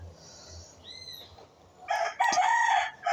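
Chickens on a farm, with a rooster crowing loudly and close near the end after some softer clucks and bird calls over faint outdoor background.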